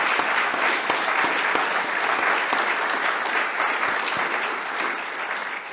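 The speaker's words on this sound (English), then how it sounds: "And can we just have another round of applause for Dr. Sean Parsons?" Continuous applause from an audience, dense clapping that holds steady throughout without pause.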